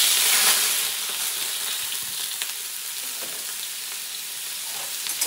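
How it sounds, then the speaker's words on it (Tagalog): Garlic, ginger, chilies and star anise sizzle in hot oil in a pan, a loud, steady frying hiss with small crackles, no voices. "So igisa na natin to."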